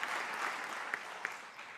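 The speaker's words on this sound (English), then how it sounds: "a clap of applause for the interpreters" Sustained applause from a closing plenary audience thanking the interpreters, a dense steady wash of many hands clapping at moderate distance, with a couple of sharper individual claps standing out before it begins to thin.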